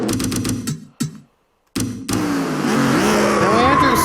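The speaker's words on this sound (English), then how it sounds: "Now Andrews spins" A race car in a Pokemon-themed racing video game spins out, engine revving in choppy bursts that cut out briefly, then rising and sliding pitch with tire squeal against a dense, loud game soundtrack.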